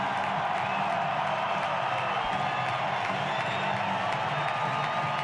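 A huge Busch Stadium crowd of about 47,000 rises for a standing ovation in World Series Game Seven, a distant, sustained mix of clapping and cheering with occasional whoops, steady and unbroken over the broadcast.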